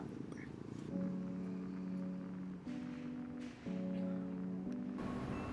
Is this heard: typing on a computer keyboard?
no